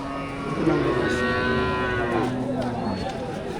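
A dairy cow at a cattle market moos loudly and close by, one long drawn-out low call with a rising wavering tone, over faint farmyard background.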